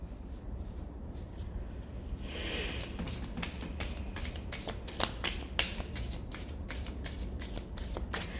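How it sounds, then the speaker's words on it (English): A deck of cards is shuffled repeatedly up close, with crisp riffling bursts and sharp card snaps in a steady rhythm, alone without any talk. "So let's just shuffle it once more and clear the deck."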